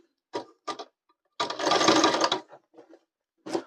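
A sewing machine stitches the seat of a pair of pants: two short bursts, then a longer run of about a second, followed by a few brief stitches. It is close and clear, with no talk.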